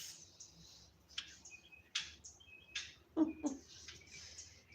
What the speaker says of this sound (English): Flies across and chirping.